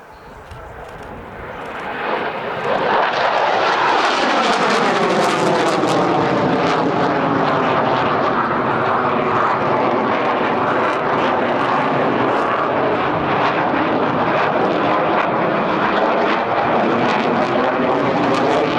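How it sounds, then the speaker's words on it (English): Propeller aircraft flying a circuit at the RAF Cosford air show, its engine drone swelling in at the start and then holding loud and steady overhead with a sweeping, shifting tone as it passes. "this aircraft is now back on the circuit"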